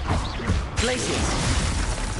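The Glacius freezing spell in Hogwarts Legacy: a loud burst of crackling, whooshing magic with a sudden bright crash partway through, followed by a sustained icy hiss close up.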